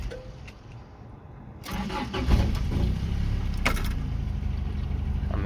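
A Toyota pickup's 22RE engine cranks briefly, catches, and settles into a steady idle that runs on evenly after starting.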